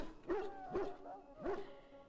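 Three barks from a Mabari war hound in Dragon Age Origins, each a short, close, fairly loud woof spaced unevenly across two seconds over quiet game ambience.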